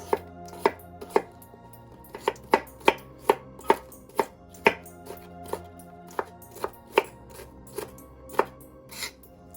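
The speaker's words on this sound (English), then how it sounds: "Enjoying slicing this and talking to you all." A knife chops food on a cutting board while slow-cooking meatballs, about twenty sharp, evenly spaced thuds falling in a steady rhythm, close and clear, with no one speaking.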